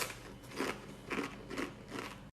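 Crisp crunching bites into a crunchy microwave-made snack, four distinct close bites spaced about half a second apart with chewing crackle between, no talking.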